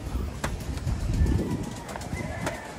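Pigeons at a loft coo softly and repeatedly at close range, a low murmuring warble over steady background noise.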